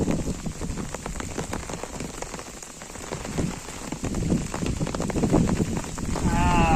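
Steady rain pours onto waterlogged rice fields, a dense, continuous close patter of drops on standing water that swells slightly toward the end, where a brief voice is heard.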